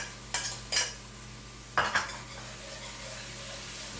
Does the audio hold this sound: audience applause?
no